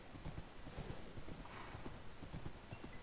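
Horse hooves clip-clop steadily in the Minecraft-style game Enderbent Evolved, a quick, even run of light, close, faint hoofbeats with no one speaking.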